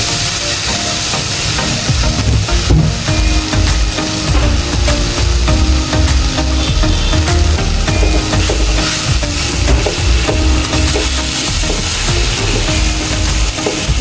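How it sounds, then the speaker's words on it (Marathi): Grated mango sizzles softly as it is stirred in a pan over a low flame, with a steady hiss and frequent scraping strokes of a spoon running throughout, close and continuous. "एक दोन तीन मिनटं आपण असंच परतून घेऊया मंद आचेवर"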